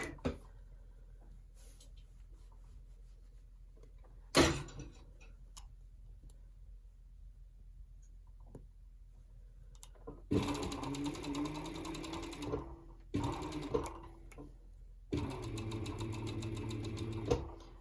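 A serger sewing machine stitches baby sweatsuit fabric, running in three quick whirring bursts after a long quiet stretch broken by a single sharp clack; the motor is close and fairly loud.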